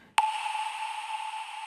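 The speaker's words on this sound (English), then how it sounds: "that's that pluck sound which you can hear" A single bright synth pluck in a melodic dubstep track strikes sharply, then rings on as a sustained, even tone with a long, smooth tail and nothing else around it.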